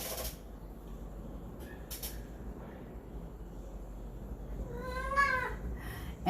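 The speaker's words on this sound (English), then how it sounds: "And that is my cat." A cat meows once, close and fairly clear, over a quiet indoor room hum, with a few faint soft knocks around it and no talk.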